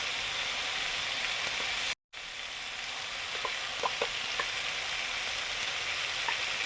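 Garlic paste frying in a hot pan: a dense, continuous sizzle with a brief dropout, then faint scraping and light utensil ticks beneath the steady hiss.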